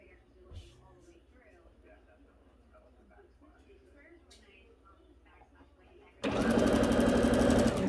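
A sewing machine stitching buttonholes starts up abruptly after a quiet stretch of faint handling noise, then runs steadily as a loud, fast mechanical whirr right up close.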